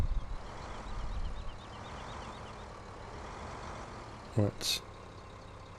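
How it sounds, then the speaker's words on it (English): A noisy Ursus tractor engine in a farming video game runs in a steady low rumble throughout, with a brief spoken word and a short clank near the end. "Get into the Ursus. Noisy one."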